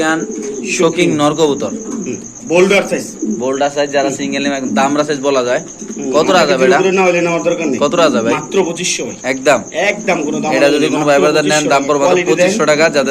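Pigeons coo in a crowded pigeon market, their soft calls repeating beneath loud, nearly continuous talking from nearby people.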